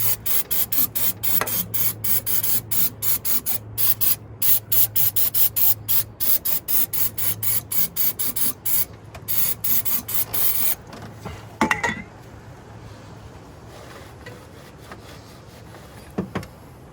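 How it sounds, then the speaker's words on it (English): Starting fluid sprayed onto an engine's exhaust manifold area to strip oil residue, a close, loud hissing spray in rapid repeated bursts for about eleven seconds, then quieter handling and rubbing noises. "Use some starting fluid, clean it up, get that oil residue off so the gasket maker sticks real nice."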